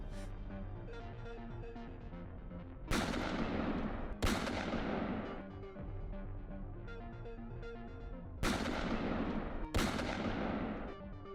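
Automatic battle cannons in the game Starlock fire a barrage, with four loud, booming blasts standing out over a dense, continuous bed of battle noise.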